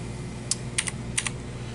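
Keys tapped on an ETRobot gaming keyboard, five or six crisp clicky strokes in irregular pairs, close and clear over a low background hum.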